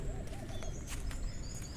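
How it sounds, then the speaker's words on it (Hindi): Faint bird calls and chirps sound in the distance over a soft background, with a few low coos mixed in. "यहाँ अभी इस टाइम पक्षियों की चहचहाहट हो रही है"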